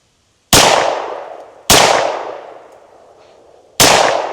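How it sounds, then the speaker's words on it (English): Three loud, sharp gunshots fired into an armor plate carried in a bag, spaced unevenly, each leaving a ringing, clanging decay behind it. No speech. "I'm just gonna mag dump"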